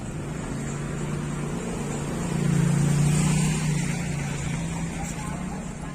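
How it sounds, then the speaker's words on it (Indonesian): Small wooden klotok motorboat engine droning steadily near the Tujuh Pintu crossing at Balikpapan, a low continuous hum that swells slightly midway, with people talking over it. "Itu satu klotok"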